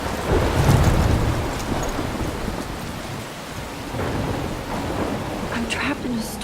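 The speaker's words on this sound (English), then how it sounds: "I'm trapped in a storm?" A thunderstorm in Life is Strange: heavy rain pours steadily while a loud, deep rumble of thunder rolls in early and slowly fades. Later, faint splashes and a brief murmur of voice sit under the downpour.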